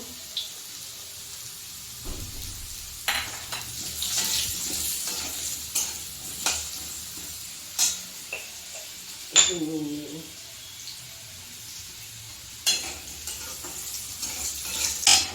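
Potatoes frying in oil with turmeric in a home kitchen pan, a steady sizzle broken by intermittent scrapes and clinks of stirring, with brief speech and a pan knock partway through.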